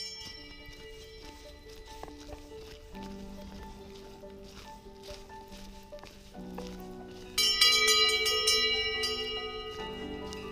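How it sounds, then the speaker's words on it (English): Allgäu cows wearing bells on a mountain meadow, a steady layered ringing of several bells of different pitches that swells louder and brighter toward the end. "In the distance you can already hear the first cows and their bells."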